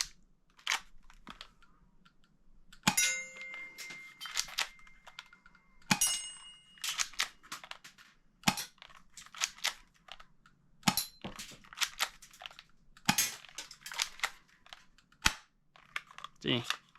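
A Tokyo Marui spring-powered airsoft H&K P7 M13 pistol fires a series of sharp, separate snaps at irregular intervals, with soft handling clicks and low background hum between shots.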